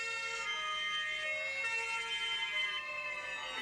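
A German fire truck siren sounds at night, a steady, sustained wailing tone with rich harmonics, somewhat distant and fairly quiet, heard alone without talk.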